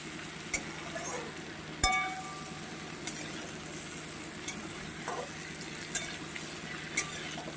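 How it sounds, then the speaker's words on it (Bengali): Ridge gourd sautés in a pan with a low, soft sizzle, broken by a few sharp clinks and taps of a spatula against the pan. "এবার দিয়ে দেবো বন্ধুরা কেটে ধুয়ে বেছে রাখা ঝিঙেটা এটার সঙ্গেও বেশ দু মিনিট আমি কষিয়ে নেবো"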